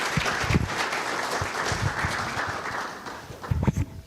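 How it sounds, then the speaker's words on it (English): Audience applause at a Film Aid film festival event, the 18th edition, rising from a dense wash of many clapping hands, with a few louder claps standing out near the start and again toward the end. "Makofi tafadhali."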